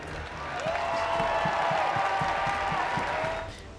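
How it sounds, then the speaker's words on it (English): A crowd at a bodybuilding show applauds in a dense, steady wash of clapping that swells and then tapers off near the end. "join me in a round of applause to appreciate these guys here"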